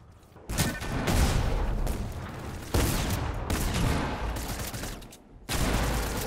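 Rapid bursts of gunfire from a Fortnite match, including sniper rifle fire, come in several loud broadband volleys separated by brief lulls, with no talk over them.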